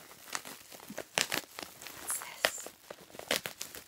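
A cat paws at and unwraps a crinkly package, making quick scattered crackles and crumples at close range, with no one talking over it.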